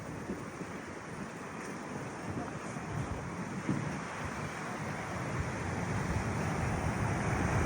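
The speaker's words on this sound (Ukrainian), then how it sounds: "тут завжди отакий океан неспокійний" Rough, restless ocean surf pounds a beach in a bay in Bali, making a dense, unbroken roar mixed with wind that slowly builds in loudness.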